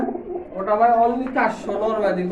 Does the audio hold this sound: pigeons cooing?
yes